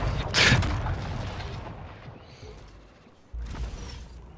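Bazooka fire and explosions in the shooter Splitgate: a loud booming blast at the start, then a rumbling tail, and a second heavy boom a few seconds later.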